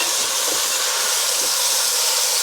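Meat searing in a hot pan, a steady close hiss of sizzling fat and juices running continuously without pause.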